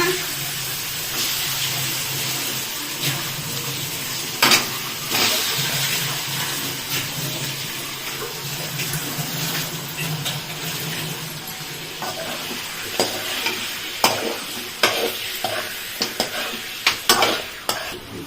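Chicken fries in a pan with ginger, garlic and curry leaves, giving a continuous loud sizzle and hiss. Stirring scrapes and clinks against the pan are heard now and then, with brief voices in the background.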